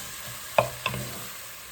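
Onions sautéing in a pan over medium-high heat for beef stew, a soft steady sizzle with two quick stirring clacks near the middle, close and moderately quiet with no talking.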